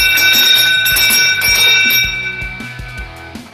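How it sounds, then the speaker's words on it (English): Bell clanging rapidly and repeatedly at a bike race's Gateway Cup stage to mark the final lap, loud and close with a ringing, shimmering tone that fades slightly toward the end. "Let's bring in our official bell ringer, Mike Weiss."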